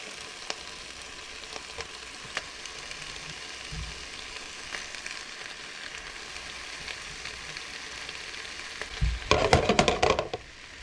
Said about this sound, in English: we're going to start by adding the ham pieces, whatever, to the frying pan